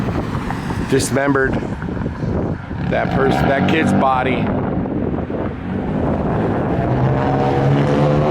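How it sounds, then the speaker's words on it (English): Strong wind buffeting a microphone outdoors at a true-crime location, a loud, rough rumble that surges and gusts beneath someone speaking over it. "it's really windy and noisy out here"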